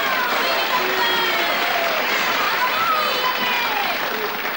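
Audience at a 1980s rock show applauding a band as it takes the stage, a dense, steady wash of clapping and crowd noise filling the whole stretch with no break.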